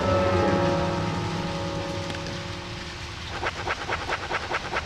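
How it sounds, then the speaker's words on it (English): Rain falling in the video game Deadly Premonition, a steady wash of sound under game music and tones, with a rhythmic pattering pulse joining toward the end. "We gotta go while it's raining and take advantage of it."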